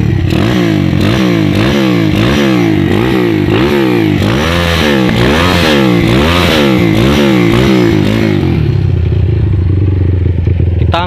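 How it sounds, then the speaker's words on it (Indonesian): A Honda Tiger 250cc motorcycle engine with unadjusted valves runs loud and close, revving up and down in repeated surges with a rattly, clattering tone before settling toward idle. "Suara mesinnya, klepnya belum kita setel ulang, sedikit berisik."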